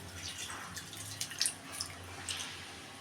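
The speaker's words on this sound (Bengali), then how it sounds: "এই দেখো এখন গরম জল এটার মধ্যে দিয়ে দিলাম" Hot water poured into a pan of potatoes frying with spices for a thick aloo dum, with gentle splashing and sizzling bubbles, soft and close, with no talking.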